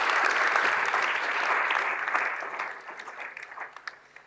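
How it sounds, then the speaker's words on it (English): Audience clapping at an academic-year opening ceremony at a university faculty, a dense burst of applause that holds steady and then thins out into scattered claps over about four seconds. "Please applaud all of them."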